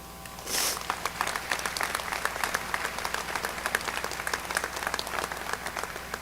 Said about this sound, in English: Ladies and gentlemen, another round of applause for these folks.